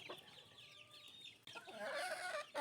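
Young chicks cheep and chirp at a game farm for fighting cocks, close by with a livelier burst of calls in the second half, and no talk.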